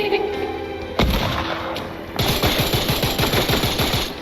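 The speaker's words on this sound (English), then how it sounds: "This just says Glock, but it's like a 2D sprite and it makes a stupid sound." A Glock pistol firing in a Minecraft gun mod, one sharp shot followed by a long rapid string of evenly spaced, loud shots.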